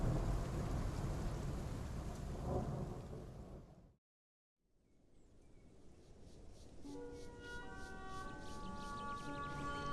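Rain and a thunderstorm in the dinosaur survival game Path of Titans: steady loud rain with rolling thunder, a brief drop to silence, then rain returns with a faint siren-like tonal call over it.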